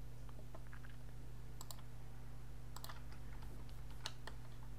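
Typing on a computer keyboard to enter a wall length in Revit software, a few scattered clusters of quick, light key clicks over a steady low electrical hum, with no talking.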